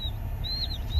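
High, thin chick peeps come in short repeated bursts over a steady low hum, fairly close and moderately loud.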